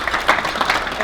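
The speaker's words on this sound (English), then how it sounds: "Give Tony a round of applause." An audience at the 2021 NJ Family Business of the Year Awards in Glen Ridge applauds in a brief, dense burst of clapping that fills the room evenly.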